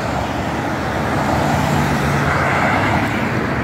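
Road traffic on a Prince George's County, Maryland highway, a steady, loud wash of car and engine noise with a low motor hum running throughout and no speech.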